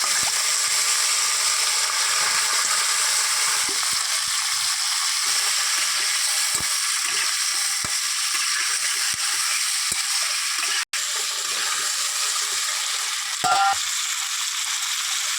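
Chopped onion sizzles and crackles steadily in hot oil for a fish curry with whole cumin and green chilli, a loud continuous fry with a few faint knocks and one brief clatter near the end.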